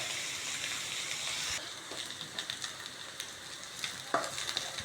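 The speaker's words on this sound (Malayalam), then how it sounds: "ഞാനിതൊന്ന് വഴറ്റി വന്നിട്ട് നല്ലോണം ഒന്ന് സോഫ്റ്റ് ആവട്ടെ കേട്ടോ" Chopped onion sautéing in a pan until soft, a steady close sizzle with scattered crackles and occasional clinks of a spoon stirring, alone without voices.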